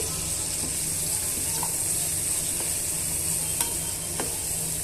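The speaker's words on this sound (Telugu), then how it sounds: "యాడ్ చేసుకున్న తర్వాత ఇవన్నీ కూడా బాగా వేయించుకోవాలి" Onions, green chillies and turmeric sizzle steadily in oil, with a constant close frying hiss and occasional sharp clicks of a spoon stirring against the pan.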